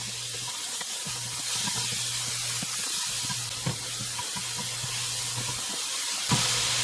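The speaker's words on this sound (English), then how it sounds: "So I'm going to continue sauteing this" Meat with seasonings sautés in a pan, giving a soft, steady hissing sizzle with faint low hum and occasional small clicks and taps.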